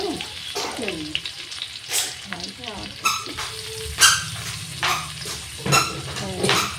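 Chopped garlic and ginger frying in hot oil for chili chicken, giving a steady sizzle with stirring scrapes and occasional clinks of utensils against the pan.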